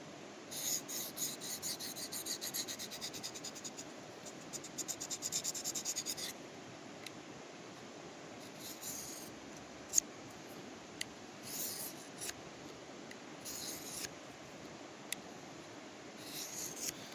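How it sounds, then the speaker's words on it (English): Knife blade drawn along a diamond sharpener outdoors, giving repeated faint raspy scraping strokes in bursts, with soft background noise between passes and no talking. "listen to the way the blade is working along your sharpener"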